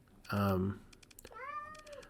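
A house cat lets out a loud, drawn-out meow close to the microphone, followed by a shorter rising meow, with a voice talking and keyboard typing underneath.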